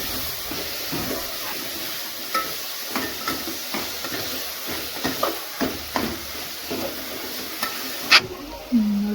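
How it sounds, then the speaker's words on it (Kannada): Carrot, beans and chayote pieces frying in oil for a vegetable upma, with a steady close sizzle under repeated scraping stirs of a spoon in the pan and a sharper clank near the end. "ಮತ್ತು ಕ್ಯಾರೆಟ್ ಕಟ್ ಮಾಡಿ ಇಟ್ಕೊಂಡಿರೋ ಸೀಮೆ ಬದನೆಕಾಯಿನ ಹಾಕ್ಕೊತಾ ಇದ್ದೀನಿ ಹಾಕ್ಕೊಂಡು ಚೆನ್ನಾಗಿ ಫ್ರೈ ಮಾಡ್ಕೊಳ್ಳಿ"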